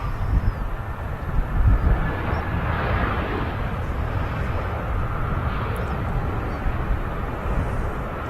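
A fixed-wing airliner touching down on runway 05 left at Manchester Airport, heard from the runway visitor park as a broad, steady low engine roar with wind rumble, fairly distant and sustained.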